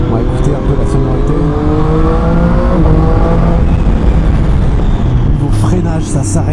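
A Triumph Street Triple 765 RS 2021 motorcycle in sport mode accelerates hard through the gears, its engine note climbing in a continuous loud roar recorded from on board.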